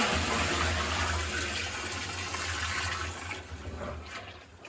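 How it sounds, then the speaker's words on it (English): Molasses and water are poured from a container into another, producing a steady gushing, splashing flow that gradually thins and trails off, with no talk over it. "now I'm going to take this molasses and water, and I'm going to dump it in"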